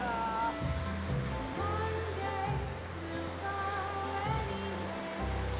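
Ocean breakers crashing below a cliff, a loud rushing surf with repeated surges and low rumbling swells rising and falling over a few seconds.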